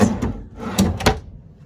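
Cabinet drawers in the full living quarters of a 2018 custom-built horse trailer slide and knock shut, giving several quick close thuds and clicks, with no talk over them.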